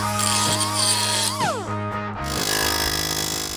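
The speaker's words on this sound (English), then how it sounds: "We'll grind off the little bit that the air hammer didn't get." An angle grinder cuts away leftover rivet material beside a ball joint on a 2010 Dodge Challenger SRT8 suspension. It gives a steady, loud, high whine, the pitch dips partway through, and then the grinding carries on.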